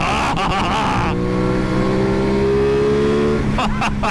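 A 2021 Aprilia Tuono 660 motorcycle engine roars loud and close, its revs climbing and holding in a steady high drone before the note shifts again, with a rider talking over it at the start and end.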